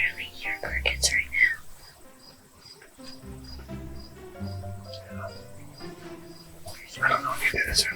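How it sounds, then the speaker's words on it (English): Steady cricket chirping pulses faintly in the background while people whisper quietly nearby during a black bear hunt. "I literally hear crickets right"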